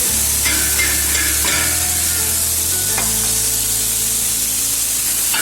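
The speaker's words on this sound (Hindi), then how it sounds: "तो मसाले हमारे भून गए, हम इसके अंदर ऑनियन ऐड करने लगा" Chopped onions added to fried spices for chicken korma, frying with a loud, constant sizzle and hiss close up, with low clatters from stirring in the pot.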